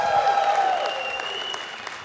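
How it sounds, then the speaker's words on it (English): Steady applause from an esports event audience for the analysis desk, a dense wash of clapping that gradually fades, with a high ringing tone under it early on. "a big round of applause, please, for the analysis desk of Wheat, In Control, Todd, and all the gues"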